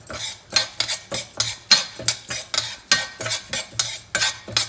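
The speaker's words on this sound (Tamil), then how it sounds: "எண்ணெய் காஞ்சிருச்சு, துவரம் பருப்பு போட்டு இப்படி வறுத்துக்கணும்." Toor dal roasting in oil in a pan, stirred in a fast regular rhythm of scraping strokes, about two per second, with a faint sizzle underneath and no voices.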